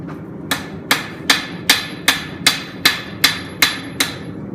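Hammer blows beveling a knife blade on an anvil, roughly ten sharp ringing metallic strikes in an even, steady rhythm, loud and close with no voices.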